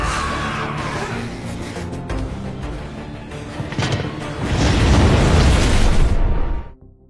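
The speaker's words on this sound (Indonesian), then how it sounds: "Kelompok Lynn melihat ledakan di Alcatraz" A cinematic explosion builds from a sharp burst into a loud, deep rumbling roar that swells and then cuts off abruptly.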